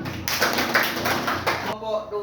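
Children in a sixth-grade science class at an Indonesian madrasah break into dense, close group applause for about a second and a half, then it stops abruptly.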